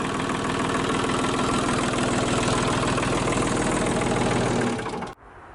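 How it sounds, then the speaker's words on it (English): A Sellick Piggyback forklift engine runs steadily and loudly with a low rumbling vibration, then cuts off abruptly near the end, leaving quiet background. "Really good running engine."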